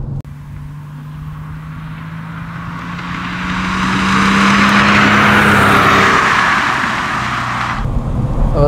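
A 1997 Porsche 993 S Vesuvio in exceptional, low-mileage condition is being driven. Its engine drones steadily and swells as the car picks up speed, then eases off near the end, with no talk.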